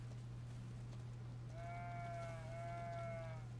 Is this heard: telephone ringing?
no